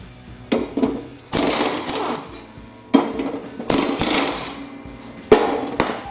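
Steel socket and wrench clanking against a Cub Cadet riding mower deck while bent blades are loosened with a 15/16 socket: several sharp metallic knocks and bursts of ratcheting scrape, close and fairly loud, with pauses between.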